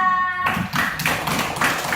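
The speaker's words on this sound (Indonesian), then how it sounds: "Tepuk tangan untuk kelas 4A." A classroom of children clapping together in a steady, sustained burst of applause, fairly loud and close.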